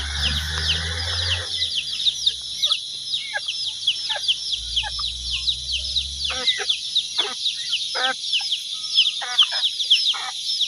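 Free-range farm chickens cluck in short repeated bursts near the listener, over a steady high insect-like background drone, with low murmurs early on.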